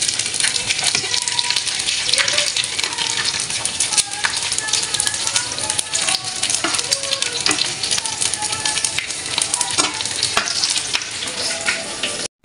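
Squid hitting hot oil in a pan alongside dried danggit, giving a loud, continuous crackling sizzle with occasional stirring, steady throughout and ending abruptly.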